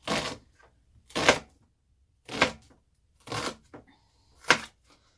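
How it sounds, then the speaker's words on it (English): An onion sliced with a knife on a board: five separate, evenly spaced crisp cuts, close and fairly loud, with quiet gaps between them. "you just take off the outer skin, and then you just cut it, and then come across and cut it this way."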